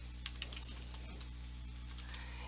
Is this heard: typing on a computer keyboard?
yes